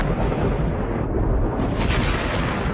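Thunder during stormy weather, a loud, continuous rumbling roar that fills the whole moment without letting up and is heard on its own with no voices.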